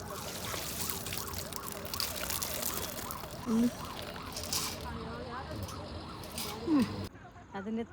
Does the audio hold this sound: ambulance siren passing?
yes